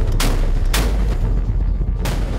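Three heavy, booming blasts from a German Navy warship's deck gun ring out at uneven intervals over a constant low rumble.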